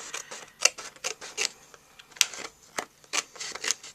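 Paper being trimmed with a hand trimmer for a handmade card envelope, a series of close, crisp cutting snips and paper rustles in an irregular rhythm, with no talking.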